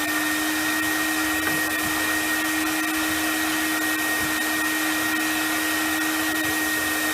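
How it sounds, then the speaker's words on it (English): A Vapor Clean Desiderio Plus vacuums damp carpet with a steady, loud, continuous motor whine and airflow hiss, alone with no talk. "And then I'm going to vacuum this."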